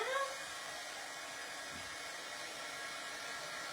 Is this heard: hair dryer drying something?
yes